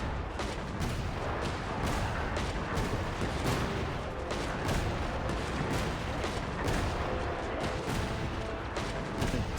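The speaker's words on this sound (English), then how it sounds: "The smoke from the explosions, I can barely see what's going on." Rapid, dense bursts of explosions and gunfire crackle almost continuously from the Wild Hunt Shooting Gallery in Genshin Impact, a busy barrage of sharp hits layered over steady game noise with no pauses.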